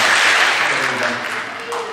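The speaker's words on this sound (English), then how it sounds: "Give him a better round of applause than that." A fuller round of audience applause at a middle school awards ceremony, a steady wash of clapping that holds at moderate loudness for a couple of seconds before easing slightly.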